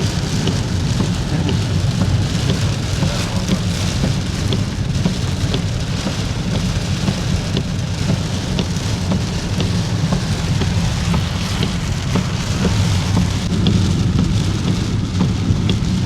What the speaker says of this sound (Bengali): এমনি কিন্তু তুফান নাই, শুধু বৃষ্টি।